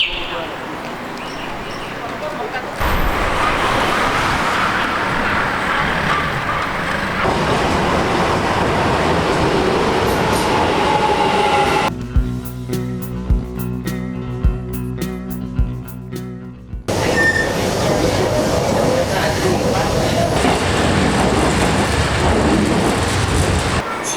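Shanghai Metro Line 6 train running toward the end of the line, a loud steady rumble and rush of the moving carriage with a brief tonal stretch midway, people talking over it throughout.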